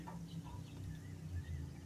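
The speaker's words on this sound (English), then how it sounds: "And the birds are very loud today." Birds call outdoors, a quiet scatter of thin chirps and clucking over a low background rumble with no talking.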